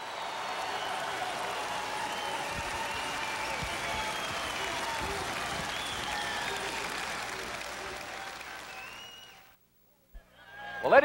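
An arena crowd at a wrestling Hall of Fame event applauds and cheers its inductees in Knoxville, with sustained dense clapping that swells, then fades to near silence before a brief burst of noise.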